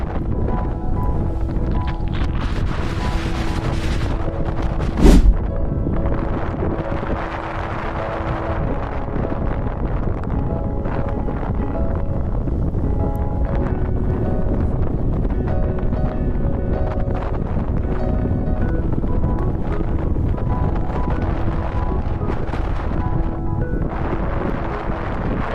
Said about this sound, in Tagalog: Maririnig nyo na sobrang lakas ng hangin dito at matataas ang alon.